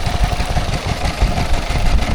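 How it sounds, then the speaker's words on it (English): A Lister D type stationary engine runs at a tractor festival with a steady, low, thumping chug, its beat continuous and fairly close throughout. "Here we are with the Lister D type stationary engine."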